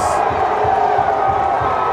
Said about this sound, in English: listen to the crowd go wild here